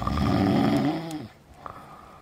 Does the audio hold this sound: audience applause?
no